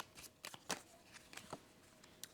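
Cards for the board game Mysticana: Realmseekers are shuffled by hand, a few quick riffling bursts and soft slaps spaced irregularly, quiet and close with no talking.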